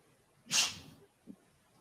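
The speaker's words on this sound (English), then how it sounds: "She's like sneezing away from this bowl." A single short, breathy dog sneeze, a sharp hissing burst followed by a faint snort, quiet and close with no talk.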